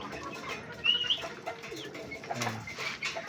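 Soft pigeon coos and a few faint chirps nearby, quiet and intermittent against a low background.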